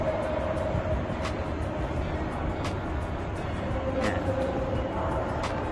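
A Seoul subway train rumbles steadily with a low, continuous roar and a few faint squeals and clicks, heard from close by.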